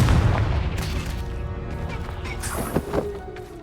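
A Confringo blasting curse in Hogwarts Legacy: a loud booming blast opens the moment, then a rumbling tail with a few sharper crashes and cracks scattered through, no talking.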